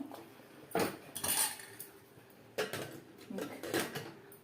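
Metal lid set onto a cooking pot of sprouted chickpea and bottle gourd curry, giving several sharp clanks and rattles in a quiet kitchen, two bursts close together early and two more later.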